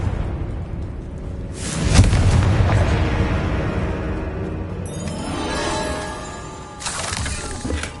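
A Confringo blasting spell goes off in Hogwarts Legacy: a loud, booming blast around two seconds in. It rolls into a sustained crackling rumble, with a second burst near the end.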